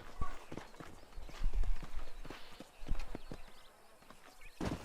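Horse hooves clip-clop at a steady walking rhythm in the Western video game Red Dead Redemption, moderately loud and close, with soft background ambience and no talk.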